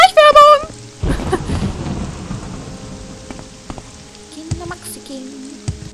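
Steady rain with rolling thunder in the video game Morrowind, a broad wash of downpour and low rumbles after a brief musical chime, fading toward the end with a few soft knocks.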